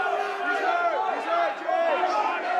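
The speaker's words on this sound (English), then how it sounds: "you hear the crowd on the side of Pettis" An arena crowd at a Team Combat League boxing match cheers and chatters in a steady, dense roar that swells slightly, with people talking over it.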